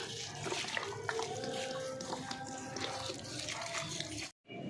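Cattle eat feed mixed with water, chewing and slurping wet mash up close in a steady, continuous stream of munching and sloshing.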